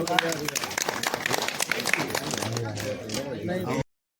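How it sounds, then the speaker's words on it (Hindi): Wedding guests clap for the groom at an Indian wedding ceremony, a crowd of hands patting quickly and unevenly under a voice and background chatter. The clapping stops abruptly just before the end. "एक बार वर जी के लिए ताली बजाते हैं।"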